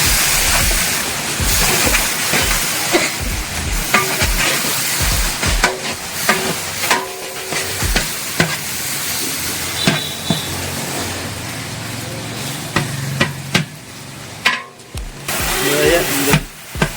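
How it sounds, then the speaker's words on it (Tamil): Onions sautéing in a large pot of chicken vadi biryani, about 20 kg: steady loud sizzling and frying hiss throughout, broken by repeated scraping and clanking stirring strokes, with a voice speaking over it. "வெங்காயம் பொன்னிறமாக ஆகிற வரைக்கும் கொஞ்சம் அப்படியே வதக்கி கிண்டி மூடி வச்சா நல்லது"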